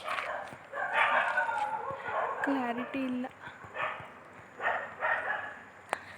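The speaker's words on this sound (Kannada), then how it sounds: "ನಾವು ನಾಯಿಗಳೆಲ್ಲ ಬೊಗಳ್ತವೆ." Dogs bark at night during a chariot festival, a few sharp close barks and yips coming in short bursts while a person talks over them.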